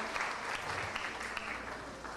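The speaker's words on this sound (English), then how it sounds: "That deserves a hearty round of applause" Audience applause at a Hindu school graduation ceremony, a faint, steady patter of many hands clapping together in a hall, continuous and even throughout with no voices standing out.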